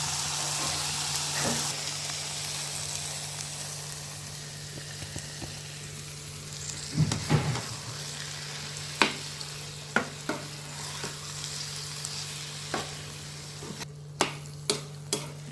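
Fenugreek greens frying and being stirred in a pan with a steady sizzle, punctuated by sharp scrapes and clinks of a spoon against the pan that grow more frequent toward the end; no talking.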